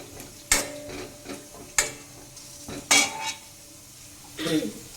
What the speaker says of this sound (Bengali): নারকেলগুলো আমি ভেজে রাখবো।